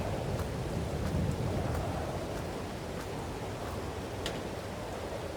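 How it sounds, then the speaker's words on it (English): Steady heavy rain in Farming Simulator 22 hisses continuously, with wind rumbling low underneath and occasional sharper drip or splash sounds; no voices. "This rain's horrible."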